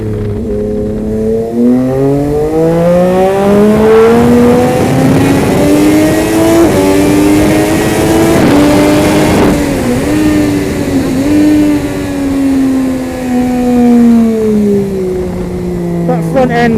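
A Triumph Moto2 prototype motorcycle engine revs hard and near, its pitch climbing and holding, then dipping briefly twice before settling. The engine stays loud and continuous throughout.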